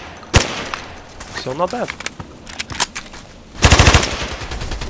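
Bursts of automatic fire from an AEK-971 rifle in the video game Contract Wars, heard as sharp, loud volleys with a long rapid burst near the end, while someone talks over the gameplay.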